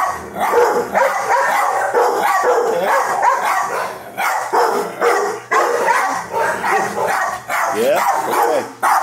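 Shelter dogs at an animal shelter barking repeatedly, loud and close, with overlapping bursts of barks and yips in an echoing room.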